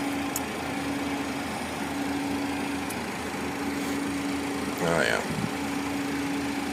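Cessna Citation Ultra 560 jet engines idling at flight idle, a steady low hum and hiss running throughout, with a person speaking briefly over it near the end.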